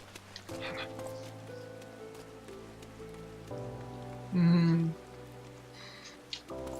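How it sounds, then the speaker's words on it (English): Rain falls on the streets of a city in the video game Final Fantasy XIV, a steady patter under sustained musical tones, with a brief louder tonal swell partway through. "any game where you've got a rainy city"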